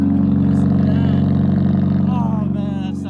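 A car engine idles with a deep, steady rumble close by, overlapped by music and a person talking, the low drone holding throughout before easing slightly at the end.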